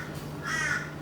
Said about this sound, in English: you can hear the crows going off there